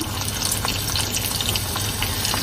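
Chopped Bombay onion hits hot oil in a pan for a Kerala-style sadhya sambar, producing a dense, continuous watery sizzle that stays even throughout.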